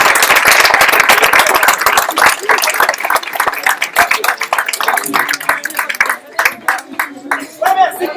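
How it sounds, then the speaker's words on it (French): Audience clapping after an improv show, loud and close at first, then thinning into scattered individual claps toward the end. "Je vous remercie énormément de vos applaudissements et d'être venus."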